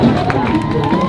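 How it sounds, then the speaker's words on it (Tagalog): Supporters shout and cheer as a congressman's helicopter lands at a campaign stop, a brief loud burst of crowd voices and whoops. "sinasabayan ito ng hiyawan ng kanyang mga taga-suporta"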